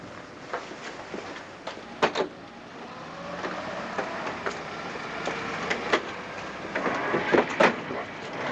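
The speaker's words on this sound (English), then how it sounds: "Traveling by train." Rhythmic rattling and clacking of a moving train carriage, a steady rumble broken by sharp knocks and creaks throughout, heard from inside the train with no talking.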